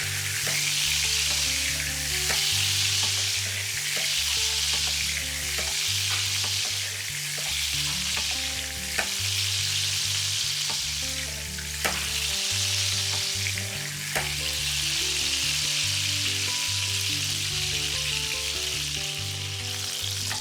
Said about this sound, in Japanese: 肉の分厚い部分に油をかける作業、アロゼをしてじんわり火を入れていきます。